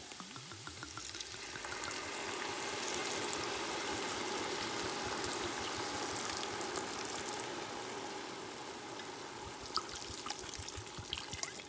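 Wine, about a third of a bottle, pours into a hot pot for gravy, a steady hissing sizzle and bubbling that rushes continuously for several seconds, fairly close and uninterrupted by talk.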